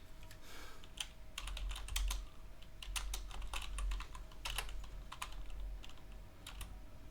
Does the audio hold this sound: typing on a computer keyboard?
yes